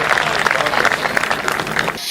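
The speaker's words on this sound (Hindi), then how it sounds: "तालियां बजा दीजिए एक बार जोरदार" A brief, continuous round of audience clapping at a comedy poetry recital, fairly loud and even throughout the short burst.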